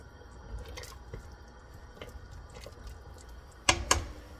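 Neck bones with pepper and salt are stirred in a cooking pot, making soft wet squishes and drips with a few sharper clinks near the end. The sound is close and fairly quiet, and no one talks.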